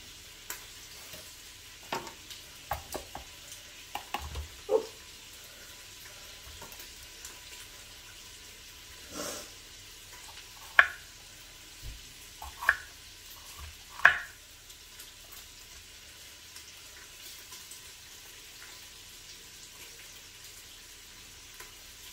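Bacon and onions frying in a pan, a soft continuous sizzle broken by scattered pops, clicks and stirring knocks, no talking.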